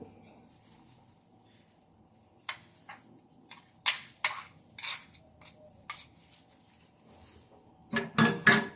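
A spoon stirs chicken garlic longganisa with chili garlic in a bowl or pan, producing a series of close scraping clinks in irregular bursts that grow busier toward the end.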